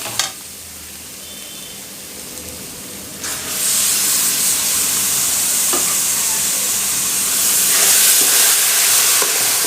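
Mushroom kulambu masala frying in oil, a loud, close sizzle that jumps in intensity after a few seconds and then hisses on steadily, with occasional clinks of stirring.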